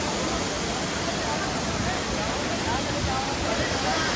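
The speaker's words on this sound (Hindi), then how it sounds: "ये रहा अम्बोली हिल्स, अम्बोली वाटरफॉल्स।" The Amboli waterfall in the Amboli hills roars as a loud, steady, unbroken rush of water. The faint babble of a visiting crowd sits beneath it.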